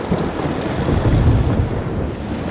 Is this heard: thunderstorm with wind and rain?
yes